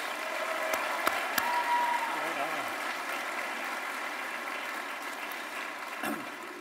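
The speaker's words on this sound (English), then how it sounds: "Let's give them a big round of applause." Commencement audience at a university School of Education ceremony applauds graduates, a broad steady roll of clapping with a few louder claps, moderately distant and fading slightly, with faint voices beneath.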